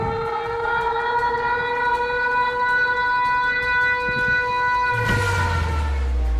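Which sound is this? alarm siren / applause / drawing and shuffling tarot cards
alarm siren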